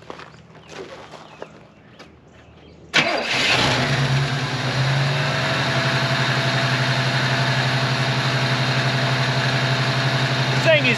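A Pontiac Firebird, revived after over 21 years sitting, cranks briefly and fires up, then settles into a loud steady slightly high idle close by, with some quiet talk before the start.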